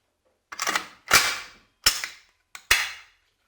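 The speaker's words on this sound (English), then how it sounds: "spring, and I close the dust cover" Metal B-33RPK dust cover being handled and snapped shut on an RPK-based rifle receiver, four sharp close clicks and clacks spaced about half a second apart with silence between.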